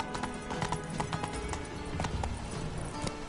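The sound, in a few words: horse Roach's hooves running, from video game The Witcher 3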